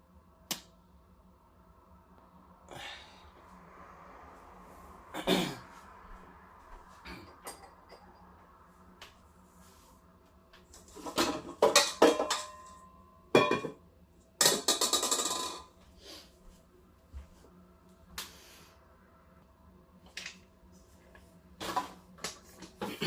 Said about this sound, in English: I'm going to sieve that through now